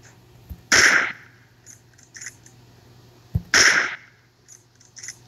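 Two loud, sharp gunshots in the PUBG Mobile battle royale game, a few seconds apart, each a sudden cracking burst with a short ringing tail, set against a quiet low hum and faint small clicks.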